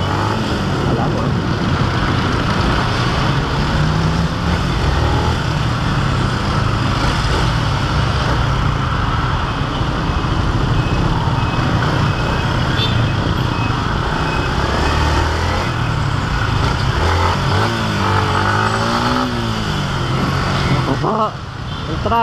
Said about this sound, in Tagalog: Traffic, Brad!